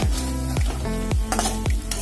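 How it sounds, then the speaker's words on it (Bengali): Pumpkin flower fritters frying in oil, a loud close sizzle punctuated by several sharp low thumps and metallic scrapes from a utensil against the pan. "আর এখানে কুমড়া ফুলের বড়া ভাজা হচ্ছে"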